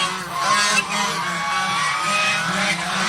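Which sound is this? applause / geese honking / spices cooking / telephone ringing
geese honking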